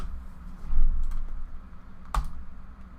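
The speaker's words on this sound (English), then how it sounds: "they type it like this and they press enter" Fingers type a command on a computer keyboard, a few soft, close key taps with one sharper press near the end over a quiet room hum.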